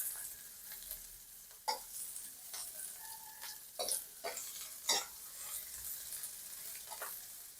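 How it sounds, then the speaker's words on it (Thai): Shallots frying in hot oil in a home kitchen, making a soft continuous sizzle broken by several sharper crackling bursts and spatula scrapes, close and moderately quiet. "จะใส่น้ำมันครับ ผมจะเอาหอมแดงเจียวก่อนครับ"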